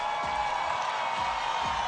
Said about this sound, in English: keep your hands clapping for every single one of them